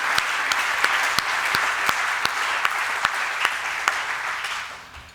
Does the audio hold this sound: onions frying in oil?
no